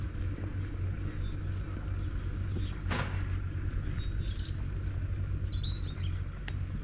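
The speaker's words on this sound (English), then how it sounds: "The birds are singing." Birds sing outdoors near a rural hotel in Campanet, Mallorca, bright high chirps and trills rising over a steady low rumble, clearest in the second half, with no talk.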